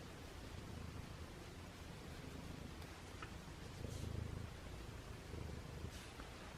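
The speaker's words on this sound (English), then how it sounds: "Stella's purring and Simba's purring." Two domestic cats purring close by in a quiet room, a soft steady low rumble with gentle swells, alone without talk.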